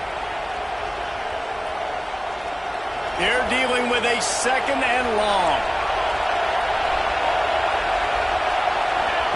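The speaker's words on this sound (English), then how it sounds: "Man, this crowd really affecting the football game." A loud home crowd roars continuously at a football game, the stadium noise swelling midway as a commentator talks over it.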